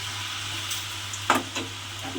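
Boondi batter sizzling as it fries in hot oil, a steady low crackle with a few brief louder bursts of bubbling, heard close and alone over a faint electrical hum.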